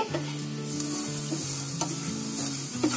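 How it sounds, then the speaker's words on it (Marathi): Garlic, ginger and green chili frying and being stirred in a pan for vada pav filling, a dense, close sizzle with scraping stirs, under soft background music. "हे आपलं फ्राय झालंय, आता मी गॅस बंद करते"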